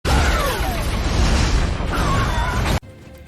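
Bomb blast from the film Iron Man 3: a loud, sustained roaring rumble of explosion and debris that cuts off abruptly near the end, leaving near silence.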